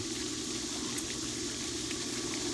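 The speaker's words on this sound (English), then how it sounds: "Right now I'm backwashing and I'm getting ready to take this down" Pool filter backwashing, with a steady, continuous rush of flowing water that stays even and fairly loud throughout, no voices over it.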